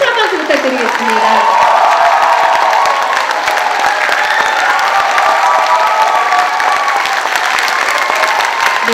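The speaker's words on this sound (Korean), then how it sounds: "다시 한번 힘찬 박수 부탁드리겠습니다" Audience at the closing theme concert of the 53rd Nangye Gugak Festival in Yeongdong, a traditional Korean music performance, claps and cheers steadily for the full stretch, a dense, sustained wave of applause with scattered whoops.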